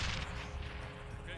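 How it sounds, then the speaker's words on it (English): A battery of three mortars firing smoke rounds in a military video game, a quick muffled series of thumping reports under a steady low rumble, fairly faint and distant, with a voice talking over it. "there's 3 mortars firing smoke rounds like this"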